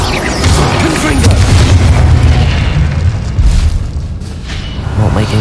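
Confringo blasting spells erupt in the Hogwarts Legacy video game, loud continuous booming explosions with dense low rumble, one burst after another with a voice shouting over them.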